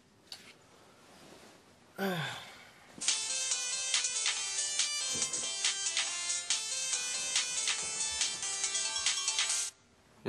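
A phone rings loudly in a Korean TV drama, a steady electronic ringtone of repeated tonal bursts running for several seconds after a short gasp-like breath, then cutting off abruptly.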